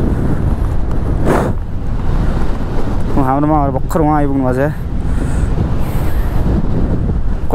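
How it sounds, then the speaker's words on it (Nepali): Strong wind roars continuously across the microphone in Upper Mustang, a loud, steady rush with someone talking briefly in the middle. "हावा कति धेरै चल्यो हो"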